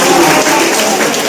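Loud, dense clapping from a group of visiting junior high school students fills the room in a short steady burst, with no voices over it.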